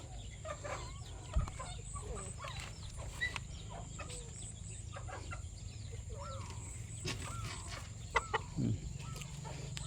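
Chickens cluck and chatter continuously nearby while eating feed, with a few sharper calls standing out from the flock's busy murmur.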